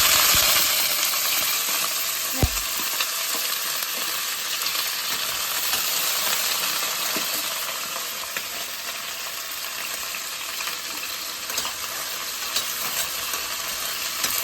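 Cashews and peeled seema chinthakaya (Manila tamarind) fry in oil, a close, steady sizzling hiss with a sharp clink near the start, continuing evenly with no talking.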